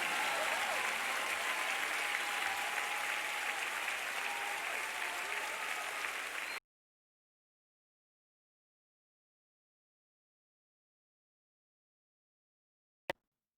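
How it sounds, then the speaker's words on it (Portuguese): A church congregation at a communion service applauds with dense, sustained clapping for several seconds. Sudden silence follows, then one brief click. "Será que você pode aplaudir ao Rei dos Reis esta noite?"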